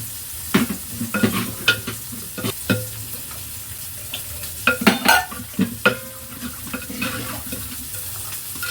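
Curry of turmeric, cumin powder and salt sizzling and frying in a pan, with steady stirring scrapes and sharp clinks, then a brief splash as water is poured in; close and moderately loud with no talking.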